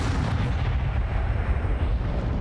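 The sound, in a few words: Bombarda explosion spell cast in video game Hogwarts Legacy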